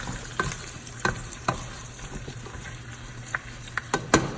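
Carrots stewing in a pot for bone broth, a soft continuous bubbling simmer with intermittent clinks and scrapes of stirring, close and moderately quiet.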